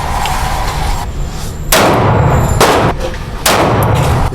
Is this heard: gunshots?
yes